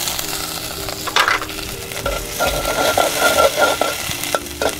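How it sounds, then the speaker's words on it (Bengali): Chopped raw onion and green chilli sizzle in hot oil in a pot, a loud continuous frying crackle with bursts of stirring and scraping throughout. "পাতিলে তেল গরম হইতে দিয়েছি, কাঁচা পেঁয়াজ কুচি দিয়ে দিলাম, কাঁচা মরিচ কুচি দিয়ে দিলাম,"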